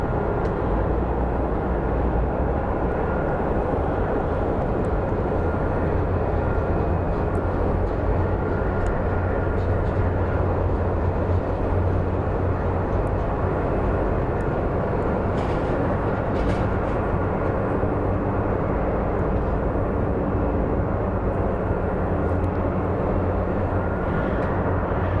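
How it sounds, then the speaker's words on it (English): An American Airlines airliner arriving at Phoenix Sky Harbor International Airport produces a continuous, distant jet roar that holds steady throughout without any rise or fade. "And here comes American Airlines 710 coming in from Seattle."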